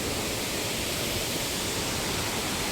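Waterfall at Salango Temple Park in Malaysia, a loud, steady broadband rush of falling water with no break, close by and alone with no voices.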